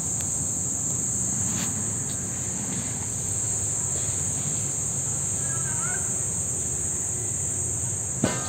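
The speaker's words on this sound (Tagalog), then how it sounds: "Narinig mo lang iba yung mga tawag nito, mga kuliglig." Crickets chirp in a dense, continuous high trill over a low background hum, with a faint bird call partway through.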